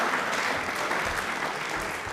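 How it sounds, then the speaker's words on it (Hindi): Studio audience applause on the DD Rajasthan quiz show Prashnottari: continuous, even clapping from a crowd, moderately loud and unbroken for the whole stretch. "इनके लिए जोरदार तालियां एक बार बजा दीजिए भाई"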